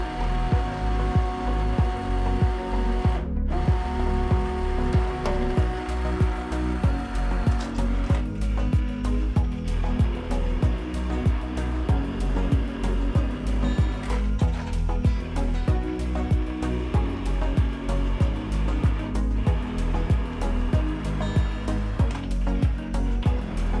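A blender runs steadily and loudly, pureeing cooked lentils with added cream and butter. The motor whirs without a break, with a fast, grinding pulse throughout.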